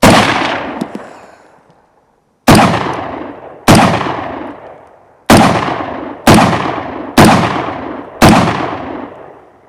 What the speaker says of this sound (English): You know, I really like this gun. It just keeps on shooting.